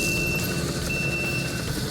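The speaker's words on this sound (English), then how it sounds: "That backup beeper is obnoxious." Backup beeper on a Kubota compact track loader fitted with a Bradco brush cutter, a steady tonal beep over the rumbling engine, continuous and fairly close.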